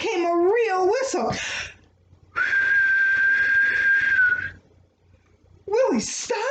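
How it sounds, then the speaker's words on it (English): A single clear whistle rings out steadily for about two seconds, sitting alone between stretches of expressive storytelling speech. "Suddenly out came a real whistle."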